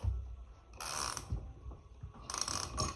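Metallic mechanical clicking and grinding as a tool drives a bearing into a bicycle suspension linkage, coming in two louder bursts with quieter ratcheting between, close up, no talk.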